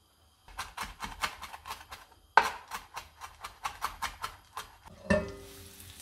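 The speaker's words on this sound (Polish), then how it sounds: "gdy siekam cebulę" Knife chopping onion on a board in quick, even strokes, two runs of crisp close taps separated by a short pause, ending in a clatter.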